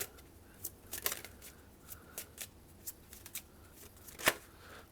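Tarot cards being shuffled up close, with soft irregular riffles and slaps and one sharper snap near the end, quiet and without talk.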